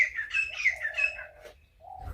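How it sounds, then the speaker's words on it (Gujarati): Sparrows chirp and tweet in a lively, close run of repeated calls, gathering to feed near a home kitchen, with a low background rumble and no talking. "અમારી ચકલીઓ પણ ખાવા આવી ગઈ છે."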